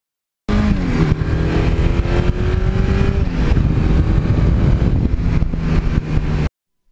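A 1982 Suzuki GS1100E motorcycle engine runs loudly up close, its steady roar rising in pitch as it revs through the gears, with no voices.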